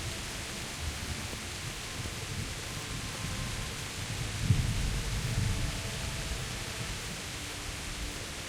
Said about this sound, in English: And just for dramatic effect, it's raining as well.